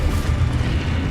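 In Hogwarts Legacy, a Confringo fire-blast spell goes off as a loud, close, rumbling boom that fills about a second with a dense low burst.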